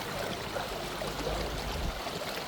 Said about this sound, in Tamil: நிறைய தண்ணி ஓடிக்கொண்டிருக்கு பாருங்க